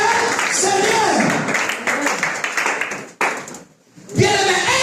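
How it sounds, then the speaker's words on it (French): A church congregation at a Sunday service claps in a burst of applause mixed with loud voices, then falls briefly quiet before the sound picks up again. "Est-ce que vous pouvez applaudir pour la gloire de Dieu?"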